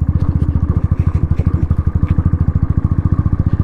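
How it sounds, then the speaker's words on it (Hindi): A motorcycle in second gear riding a slippery gravel road makes a loud, close, steady rapid engine thump, with rattling clatter over the top. "दूसरे गियर में बाइक चल रही है"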